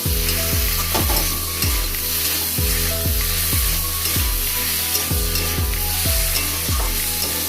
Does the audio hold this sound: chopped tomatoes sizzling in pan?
yes